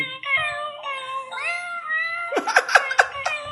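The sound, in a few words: greeting card playing cat meows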